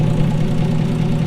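A 1973 Plymouth Duster's engine idles steadily up close, a continuous low rumble with even pulsing and no voices over it.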